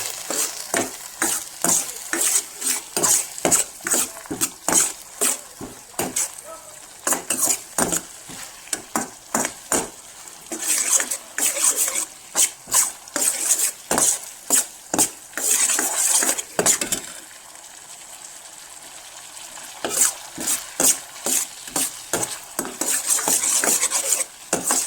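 Egg chilli being stirred and mixed with masala in a pan, a steady run of close metallic spoon scrapes and clinks over a faint sizzle, with a brief quieter pause partway through.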